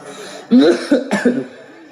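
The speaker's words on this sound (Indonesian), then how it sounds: "Eta batuk lain ceramah." A short burst of harsh coughing, two or three rough hacks in quick succession, close and fairly loud, with no talking.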